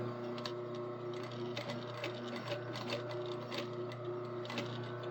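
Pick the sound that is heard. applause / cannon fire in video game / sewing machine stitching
sewing machine stitching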